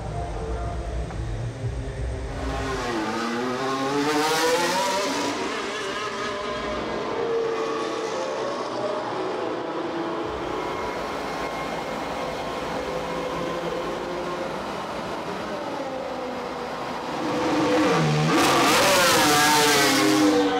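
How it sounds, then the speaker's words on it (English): A Formula 1 race car runs on track during Friday running, its engine screaming past in loud high-pitched revving sweeps that rise and fall, with a strong pass at the start and another building toward the end. "I'll go round to my spot where I can monitor the car while it's running"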